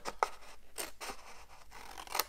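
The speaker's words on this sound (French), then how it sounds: "Ici, on prend des ciseaux et on va enlever des parties." Scissors cut through paper card while a simple handmade holiday card is being made, giving several close, crisp snips spaced unevenly over a couple of seconds with no talk.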